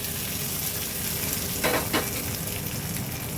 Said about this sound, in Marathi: फोडणी छान तडतडली की ह्या चटणीवर घालणार आहोत